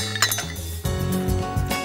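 A few almonds clatter and clink into a mixer jar, a quick scattered rattle with brief pauses between drops, close by.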